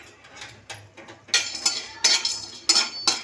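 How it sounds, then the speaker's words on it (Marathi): Pieces of cinnamon tossed and dry-roasted in a pan, with bright scraping and clattering strokes from stirring that come in uneven bursts and get louder midway, with no one talking. "आता आपण दालचिनी तुकडे घालणार आहे"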